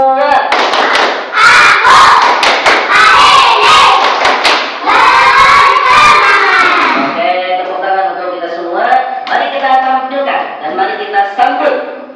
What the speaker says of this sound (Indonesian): mari kita sama-sama untuk bertepuk semangat yang kedua.